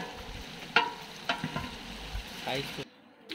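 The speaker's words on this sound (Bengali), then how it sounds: "এখন যে চিংড়ি মাছটা ভেজে রাখা হয়েছিল সেটারে মশলা দিয়ে নারকেলের দুধ দিয়ে এটা রান্না হচ্ছে" Prawns cooking with spices and coconut milk at a Rotary club monthly meeting meal in Taltala, a steady close sizzle with a few sharp utensil clinks, cutting off abruptly near the end.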